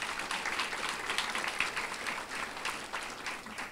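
Quiet, distant clapping from a room of guests at a college retirement open house, even and sustained with no voices over it.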